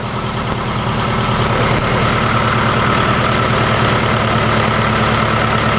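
A 1956 Volkswagen Beetle engine runs close by at a steady, loud idle, a continuous low rumble with an even throb and no pauses.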